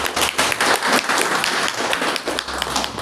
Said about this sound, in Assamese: আপোনালোকে অন্তৰৰ পৰা এটা বিপুল দত্ত ছাৰৰ কাৰণে হাত চাপৰি দিব